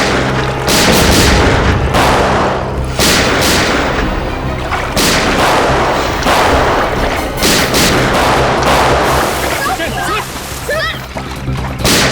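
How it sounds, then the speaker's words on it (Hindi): Gunfire in a police crime drama shootout, heard as loud, dense volleys of shots and booms that go on almost continuously, with voices shouting over the barrage. "ऊपर से सीआईडी के ऊपर फायरिंग"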